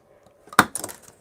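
A razor blade chops a part out of a plastic 1:48 scale model kit with one sharp, close snap, followed by a few small clicks in otherwise quiet surroundings.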